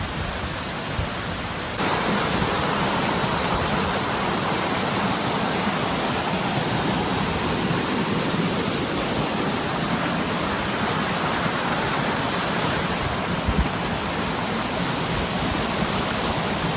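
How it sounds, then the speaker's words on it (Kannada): Chitrabi falls at Kabbinale, a steady roaring rush of falling water, loud and close, holding constant without a break. "ಸೊ ಇದು ಇನ್ನೊಂದು ಫಾಲ್ಸು"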